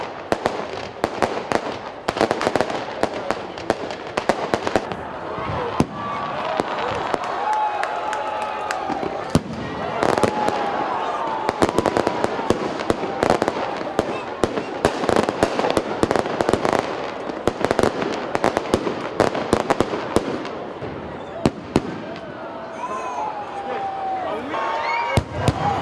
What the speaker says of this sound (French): Et ses feux d'artifice.